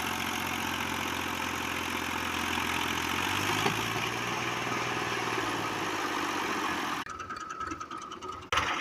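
Massey Ferguson tractor pulling a loaded trolley, a steady mid-pitched engine drone held for several seconds with a slight swell midway, then an abrupt change to rougher, choppier mechanical noise near the end.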